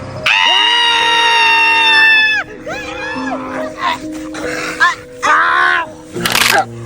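A loud, sustained, high-pitched scream rings out for about two seconds, then breaks into shorter wailing cries and shrieks in a horror scene.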